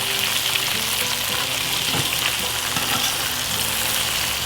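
Duck meat and vegetables frying in a pan over an outdoor fire at an off-grid cabin, a loud, steady, close sizzle with scraping and stirring knocks running through it.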